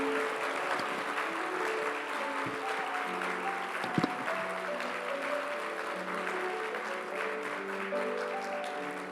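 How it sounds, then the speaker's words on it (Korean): A church congregation applauding at an anniversary service: sustained, dense clapping from a large crowd, with held musical tones sounding beneath and a brief sharp knock midway. "여러분 큰 축복의 박수로 여러분 함께 해주시기 바랍니다"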